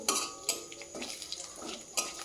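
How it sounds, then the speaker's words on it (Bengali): Bay leaves and spices are stirred in a cooking pan with a few sharp metallic clinks and scrapes of a utensil against the pan, separated by quieter sizzling, all close by and with no talk. "তার সাথে দিয়ে দেবো তেজপাতা আর যে এই মশলাগুলো রেখেছিলাম, এগুলো টেস্টের জন্য এগুলো খুবই ভালো হয়। ভালো করে নেড়ে নেব।"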